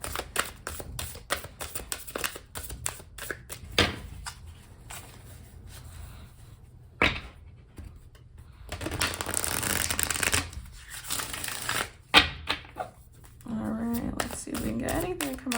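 Tarot deck shuffled by hand, a run of rapid riffling flutters and card slaps in bursts, close up, with a voice speaking in between.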